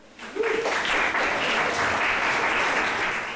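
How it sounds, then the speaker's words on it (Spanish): A group claps for a student's correct answer during a Bible teaching session. The applause starts abruptly and then holds as a steady, full round of clapping that fills the room. "Muy bien, denle un aplauso."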